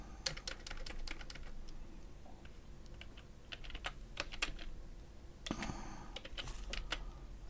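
Rapid clicking keystrokes on a computer keyboard, typed in several quick bursts with short pauses between them, close and moderately loud over a low steady room hum.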